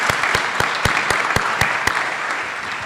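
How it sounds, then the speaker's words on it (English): Audience applause for cadets at a flight academy graduation ceremony at the University of Maryland Eastern Shore, dense steady clapping with a few louder individual claps sounding at regular intervals. "I want to give you a round of applause for taking the time to do what you did."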